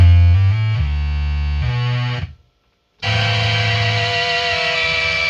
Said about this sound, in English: let's listen to it with the SQR-ONE on